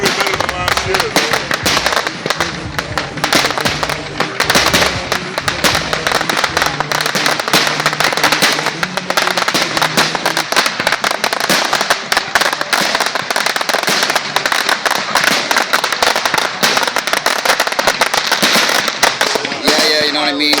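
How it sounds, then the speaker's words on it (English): Dense, continuous crackling and popping of fireworks and firecrackers at a July 1st celebration, loud and relentless throughout, with people talking and shouting underneath. "Fireworks, July 1st."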